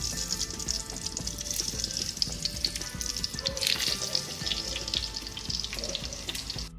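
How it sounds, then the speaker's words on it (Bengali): Steady crackling sizzle of eggplant slices frying in hot oil, continuous and close, with faint clinks and shifting bubbling throughout. "তেলটা আমার একটু গরম হবে হলেই আমি বেগুনগুলোকে ছাড়ছি এবার আমি বেগুনগুলোকে ছেড়ে দেবো"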